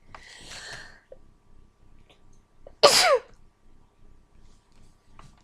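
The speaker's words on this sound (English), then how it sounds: "I'm gonna sneeze in a second." A single loud, sharp sneeze bursts out midway, preceded by a breathy intake and surrounded by quiet room sounds.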